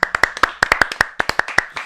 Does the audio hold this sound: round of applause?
yes